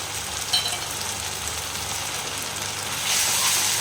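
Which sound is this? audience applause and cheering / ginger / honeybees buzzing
ginger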